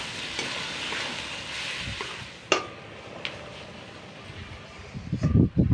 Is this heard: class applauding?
no